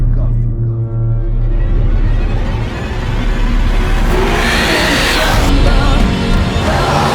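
A Ducati Diavel motorcycle engine snarls loudly and close, its deep rumbling drone swelling into a harsher, rising rev toward the end.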